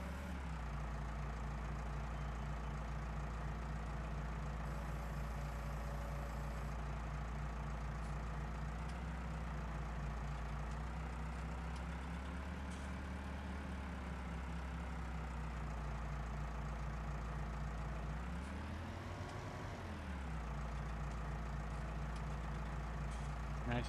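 A tractor engine in Farming Simulator 19 runs steadily at idle for the whole stretch, a continuous low drone with one brief rise and fall in pitch near the end.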